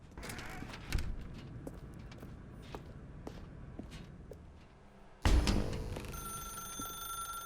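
In the video game TSPUD, a telephone rings out loud and near after a stretch of quiet footsteps and small knocks, its bright ringing tone continuing steadily to the end.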